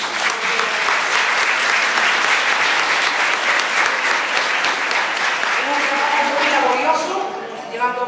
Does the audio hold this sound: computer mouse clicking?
no